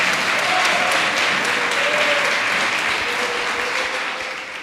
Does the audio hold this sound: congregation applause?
yes